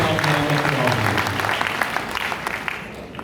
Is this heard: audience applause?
yes